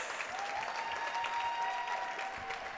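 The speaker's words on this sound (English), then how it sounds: "Round of applause for all of our men, first-time Heartland qualifiers." A crowd at a short-track racing championship applauds first-time qualifiers: a steady, even wash of many hands clapping throughout, with faint tonal sounds above it.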